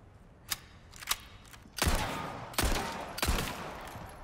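Gunfire in Resident Evil 4 Remake: two sharp, isolated shots, then three heavier booming blasts with rumbling tails, loud and close, no talking.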